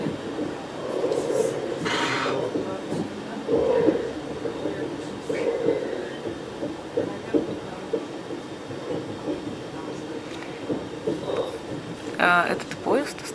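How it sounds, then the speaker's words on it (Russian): Rumbling rattle of a moving train carriage with rhythmic clanks and squeals over the rails, fairly loud and continuous, voices faintly mixed in. "Поезд пошел."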